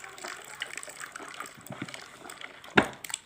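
Homemade liquid soap being stirred in one direction while water is added, giving wet sloshing, dribbling and scraping sounds with a sharper splash near the end.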